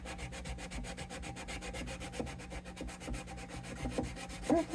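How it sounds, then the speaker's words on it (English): Flexible, rubberized sandpaper rubbed over the wood of a vintage Gibson LG-1 acoustic guitar in quick, rhythmic back-and-forth strokes, close and steady with no voices. "It's like flexible, almost like rubberized sandpaper."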